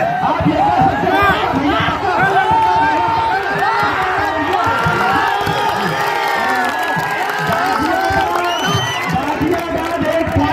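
Spectators at a kabaddi semi-final match cheer and shout loudly and continuously, a dense mass of crowd voices with excited whoops rising over the general roar.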